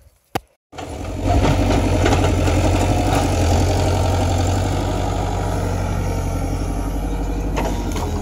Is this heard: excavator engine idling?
yes